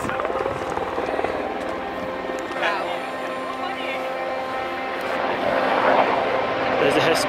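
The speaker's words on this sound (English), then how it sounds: "There's a rescue helicopter coming." A rescue helicopter approaching over a mountain ridge, a steady distant rotor drone that swells slightly louder toward the end, with people talking over it outdoors.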